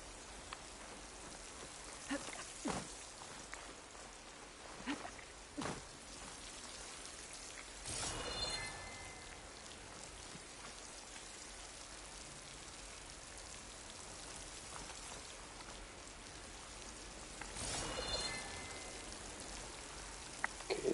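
Steady rain falls in the video game Horizon Forbidden West, a constant hiss with brief louder gusts, heard alone without talk.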